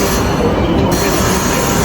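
A train rumbles past at a station in Chengdu, China. Loud, continuous wide-band roar and rail noise fill the whole stretch, with no voices.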